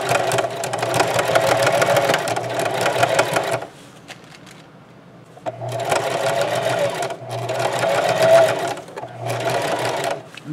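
A sewing machine stitches the edge of a tote bag handle made from lemon-print placemats, a close rapid mechanical chatter in several runs separated by short pauses.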